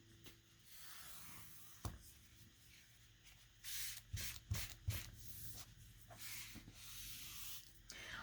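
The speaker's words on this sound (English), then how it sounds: "So I'm just smoothing it all down, making sure that it all gets adhered nicely." Glued paper being smoothed down by hand onto a junk journal cover, giving soft, faint rubbing and swishing strokes that repeat irregularly, with a few louder brushes midway and no talking.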